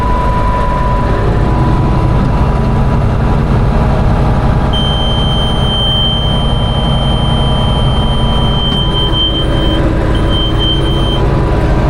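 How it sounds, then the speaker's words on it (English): A loud, continuous baler buzzer sounds over heavy engine rumble inside a tractor cab, steady and unbroken for several seconds. "I don't know how loud that buzzer is on camera. It's pretty loud."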